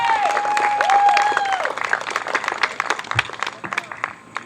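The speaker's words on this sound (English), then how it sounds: "Give him another round of applause." Applause from an audience at a Union County Republican political event after a speaker, steady clapping that thins out over a few seconds, with a sustained tone and some crowd noise mixed in.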